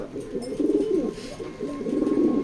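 Racer pigeons coo inside a cage, a male among them giving repeated low rolling coos, close and fairly clear over light background noise.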